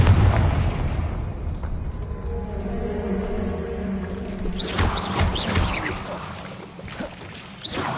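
A Confringo fire spell bursts in Hogwarts Legacy on PS5, a booming, rumbling explosion that swells midway and rolls on with crackling debris over a continuous low roar.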